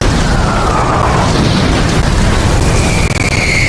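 Gunpowder cannon fire in a battle sound effect, a loud continuous roar of booming blasts and rumbling that fills the whole stretch without pause.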